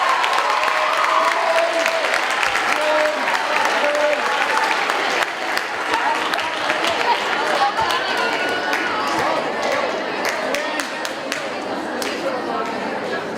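Audience at a Robert Frost poetry bee claps steadily for the full stretch, a dense, close round of applause with some crowd chatter mixed in.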